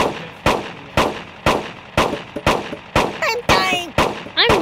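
Rapid bursts of cartoon firearm shots in the Kick the Buddy game, loud sharp cracks repeating roughly twice a second, with ricochet-like whistling pings and metallic clangs in the later shots.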